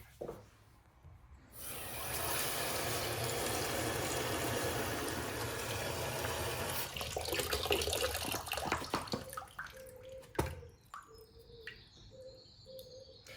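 Tap water runs steadily into a sink or container to soak floral foam for a funeral flower spray, a continuous close splashing stream that stops abruptly, followed by light handling clatter.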